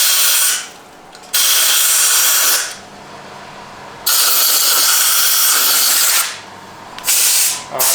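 A 1976 Leyland Mini Moke engine is turned over in loud, repeated bursts of cranking, three or four cycles with short pauses between them, harsh and mechanical with a hissing edge.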